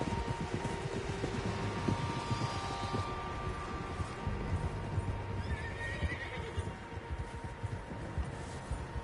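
Horses whinny and neigh amid a steady clatter of hooves in a PS4 video game, several animals close by over a dense, continuous bed of ambient game noise.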